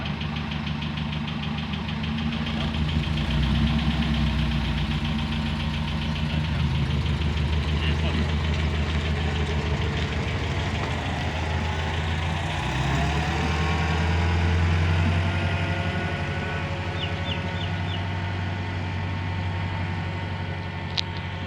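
A Morris Oxford's engine idling as it pulls out of a driveway: a steady low rumble that rises briefly as it moves off, close and continuous, with people talking over it.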